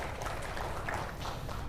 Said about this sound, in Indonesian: Tepuk tangan buat Pak Mas Huda juga